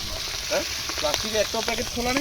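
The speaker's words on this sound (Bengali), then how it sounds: "মাছ ভাজা হচ্ছে" Fish fries in a pan at a seaside picnic spot with a constant hissing sizzle while someone talks over it nearby.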